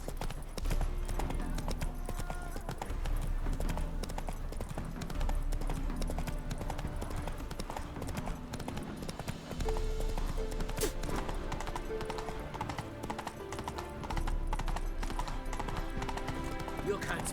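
The horse Roach clip-clopping in The Witcher 3, steady hoofbeats beneath game music and voices talking.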